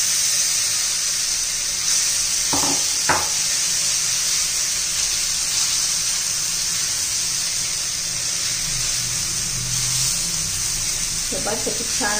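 Pea dosa batter spread on a hot oiled pan, a steady broadband sizzle running throughout, with a few brief scraping touches of the spreading and faint voices near the end.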